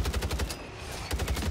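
A quick run of gunfire bursts in Call of Duty Warzone on Rebirth Island, with a brief gap in the middle, fitting sniper rifle fire during a fight.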